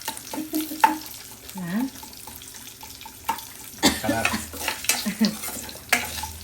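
Chana dal and curry leaves frying in a pan, with soft sizzling under repeated stirring and scraping, a few sharper clinks and splashes near the end.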